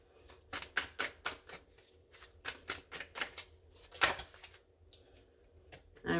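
Oracle cards being shuffled and drawn from a deck, a string of crisp papery riffles and flicks in an irregular rhythm, close and moderately quiet, with a sharper snap near the end and no talking.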